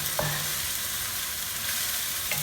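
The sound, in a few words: shrimp caldinho simmering in a pan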